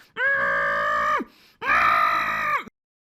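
A voice imitates screaming with the mouth closed, producing two long, loud muffled humming wails separated by a short pause, close and alone.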